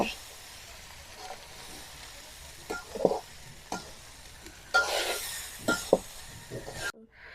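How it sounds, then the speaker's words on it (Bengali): Leftover rice fried and stirred in a pan, with a steady soft sizzle and several scraping stir strokes toward the end before a sudden cutoff; a quiet voice may be present. "এবার আমি ভাতগুলো সুন্দর করে ভেজে নেব"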